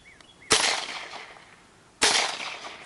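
An M1A1 Thompson submachine gun fires two sharp single shots about a second and a half apart, each a loud crack with a short decaying tail, outdoors with no talk.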